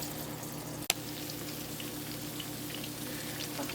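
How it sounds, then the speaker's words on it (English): Small balls of banana fritter batter (gateau bannane) fry gently in medium-low oil, giving a soft, steady, faint sizzle with one sharp click partway through. "dropping the bananas in small balls. Keep the oil over medium low, so the banana doesn't get brown quickly and not cook inside."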